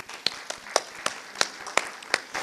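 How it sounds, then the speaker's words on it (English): At a Black History Month program, a Performing Arts Academy group is applauded with sparse, distinct hand claps, roughly eight sharp slaps spaced unevenly over a quiet background. "Let's give them another round of applause"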